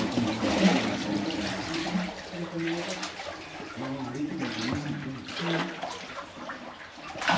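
Water rushes and gurgles steadily through a tunnel beneath a city, a continuous echoing flow heard behind people talking nearby.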